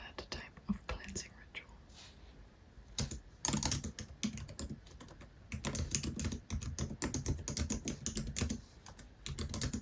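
Soft typing on a computer keyboard in an intimate whispered roleplay setting: quiet irregular key clicks at first, then denser bursts of rapid close-up keystrokes, with faint whispering underneath.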